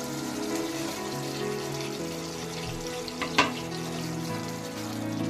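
Fried prawns tipped into a spice paste that is sizzling steadily in oil, with a brief clatter as they go in midway, then a continuous close frying hiss with no talking.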